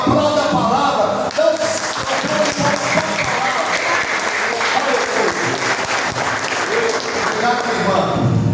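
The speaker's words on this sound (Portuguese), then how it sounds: "Aleluia! Aplauda a palavra." A church congregation breaks into loud, sustained applause, dense clapping and crowd noise running throughout with voices mixed in.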